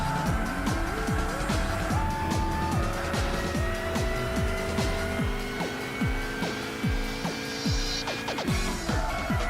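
A Lotus Europa's engine revs hard in Gran Turismo 6, its pitch climbing through stepped gear changes, with brief tire squeals and other cars buzzing nearby. The engine stays loud and steady throughout.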